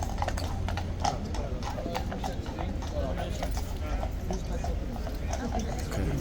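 Horse hooves clip-clop steadily on pavement at Horse Guards in London, a crisp, regular clatter close by, with people talking beneath it.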